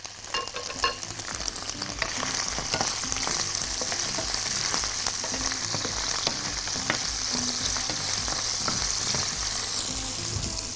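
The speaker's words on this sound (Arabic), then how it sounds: "الطاسه سخنه جدا ودي حاجه لذيذه. ننزل السجق اول حاجه." Sausage sizzling in oil in a very hot pan, a steady crackling fry with spitting pops throughout, close and moderately loud, no talking.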